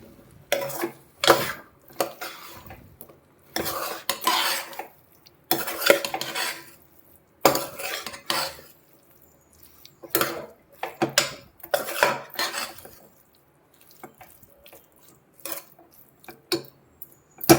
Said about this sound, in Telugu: ఇప్పుడు మనము ఇది వేసుకుందాం, సొరకాయ పీసెస్. మసాలాలో బాగా కలపాలి.